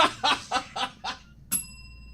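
A single bell rings out sharply and clearly, leaving a sustained metallic tail that fades slowly, after a short run of rhythmic laughing bursts.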